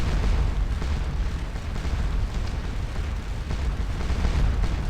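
Continuous roar of artillery bombardment pounding a church in the Napoleonic battle game Scourge of War: Waterloo, a dense rumbling wash of distant cannon booms blending together, loud and unbroken, with no talk.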